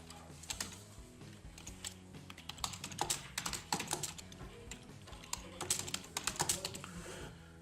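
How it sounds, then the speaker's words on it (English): Rapid, steady clicking of keys on a computer keyboard, continuous typing with small bursts and pauses, close and fairly quiet. "I can type text."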